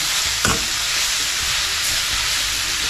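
Ginataang labong, bamboo shoots cooking in a pan, stirred over steady loud sizzling and hissing, with a brief scrape of the spoon against the pan near the start.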